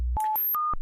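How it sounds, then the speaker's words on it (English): Two short electronic synth beeps at different pitches, clean and loud, jumping abruptly from one tone to another. "computer sounds from the 60s, sci-fi movies always had to sound like this"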